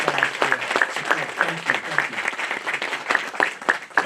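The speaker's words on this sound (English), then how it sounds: "let's give the Lincoln University team a round of applause for support" A crowd applauds the Lincoln University team at a donation announcement. Individual claps stand out clearly in close, lively applause, with some talking mixed in.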